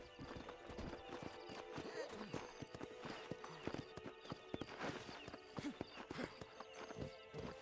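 Horse hooves clip-clop steadily in the Red Dead Redemption video game, a brisk rhythmic trot with occasional whinnies, running under intermittent voices and game sounds.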